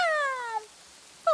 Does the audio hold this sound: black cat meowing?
yes